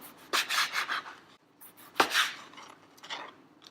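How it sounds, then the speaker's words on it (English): A knife cuts rolled-up food into pieces about 1.5 centimetres thick in two bursts of slicing strokes with a brief pause between, close and fairly quiet. "So after it's been rolled up, I will just slice this"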